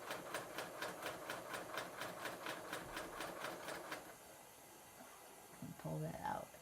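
A serger sewing machine test-stitches a fabric sample, a rapid even mechanical chatter of needle strokes running steadily for about four seconds before stopping, followed by a quiet pause and a short stretch of talk.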